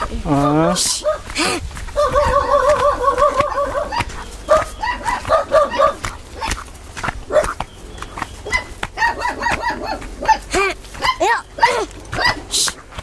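A dog barks in short repeated bursts outdoors at a rural house, mixed with people talking throughout and some bird calls in the background.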